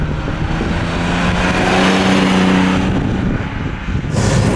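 A 1970 Mercedes 280 SL Pagode with its 2.8-litre six-cylinder engine revs hard, a loud close engine roar that climbs and holds high for several seconds before easing off, with no talk over it.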